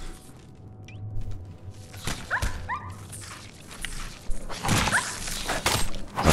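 A dog in the game Fallout 4 gives a few short barks and whimpers amid busy game noise, thuds and rustling movement, fairly close and moderately loud.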